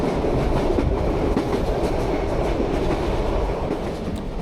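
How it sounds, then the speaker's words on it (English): A locomotive-hauled Buenos Aires commuter train rolls through open countryside with a continuous low rumble and rhythmic clatter of wheels on track, loud and close, no voices. "the train, which by this point was journeying through some open countryside"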